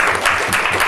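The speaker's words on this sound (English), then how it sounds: "Big round of applause for Guru Maharaj." Audience applause at a Sunday programme in an ISKCON temple in Coventry, a steady dense wash of clapping that fills the whole moment without a break.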